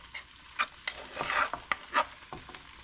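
Macaroni and cheese being stirred into cooked meat and beans for chili mac, a few close wet scraping strokes and spoon knocks with gentle sizzling between them, no talking.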